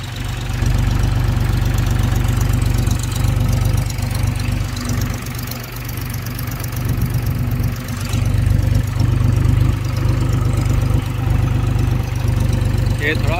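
A loud, steady tractor engine chugs and idles continuously with a low droning rumble, running alone with no voices.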